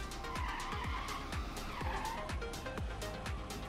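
Tires squeal and skid over a rumbling engine as a truck accelerates with a car in BeamNG Drive, the game audio a loud dense stream of repeated screeching swoops with no voices.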